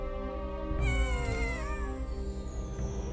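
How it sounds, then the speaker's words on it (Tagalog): Cats fighting on a rooftop at night, yowling and caterwauling in long wavering, rising and falling cries with a harsh hiss, loud and close without pause. "Nagkakagulo ang mga pusa."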